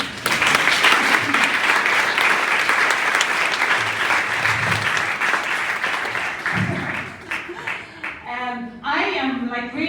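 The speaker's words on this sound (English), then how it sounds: "Clap again." An audience claps during the closing thanks of the WAFL2024 event, with sustained, dense applause from many hands for most of the stretch before a voice begins speaking near the end.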